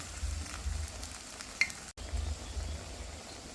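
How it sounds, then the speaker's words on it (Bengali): Taro fritters (kochu bora) deep-frying in hot oil give a steady, quiet sizzle with soft bubbling, a faint clink near the middle and a brief dropout just before the two-second mark. "এবার এটাকে মা লাল লাল করে ভেজে নেবে"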